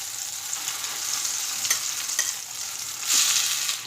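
Mashed eggplant is added to softened tomatoes frying in a pan, giving a soft continuous sizzle with scraping stir sounds close by and no talk.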